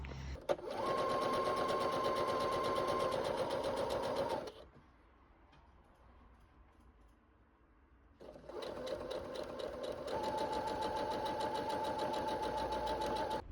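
A sewing machine stitches a fabric tie in two long loud bursts of steady, fast mechanical whirring, separated by a quieter pause of about four seconds.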